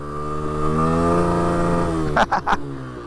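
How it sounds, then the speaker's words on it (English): A motorcycle engine revs hard while the bike is held in a balance-point wheelie, a loud sustained high-revving whine that shifts pitch. It breaks into a few sharp throttle blips near the end. "I ended up revving the bike out"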